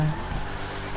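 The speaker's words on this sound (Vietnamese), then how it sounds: "Trời mưa to quá." Heavy rain falling in the GTA 5 game world, a steady, even wash of noise that continues through the whole moment with no break.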